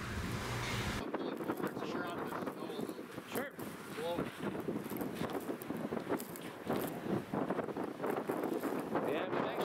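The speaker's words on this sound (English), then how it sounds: "we've actually got quite a bit of wind now" Strong wind buffets the microphone on a cold, snowy airfield where a Zenith STOL SkyJeep on snow skis is flown, a steady loud roar with gusty surges throughout, and faint voices underneath.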